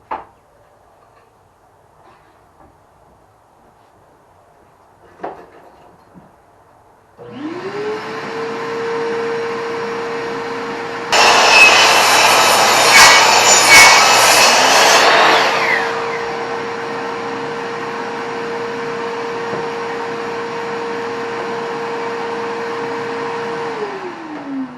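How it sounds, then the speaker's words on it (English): A miter saw cuts wooden boards to length for an end-grain cutting board. The motor whines up to a steady loud hum, and a harsher, brighter burst comes mid-run as the blade passes through the wood before the motor keeps humming. "I'm just going to do them on the miter."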